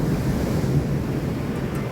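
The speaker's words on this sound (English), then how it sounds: "Sorry about the waves in the background. Beautiful surf out here." Ocean surf at Booderee National Park, a steady, close roar of breaking waves mixed with wind buffeting the microphone.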